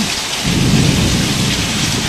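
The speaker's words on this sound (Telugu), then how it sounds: "ఎంత పెద్ద పెద్ద సౌండ్ వస్తుందో" Heavy rain pours down with rolling thunder during a storm near a village house, a loud, continuous roar of downpour with deep rumbling beneath it and no voices.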